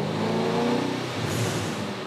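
Twin turbo Boss 302 V8 revving hard on a dyno, a steady loud engine roar that climbs in pitch and then shifts as the pull changes, close and continuous with no talk.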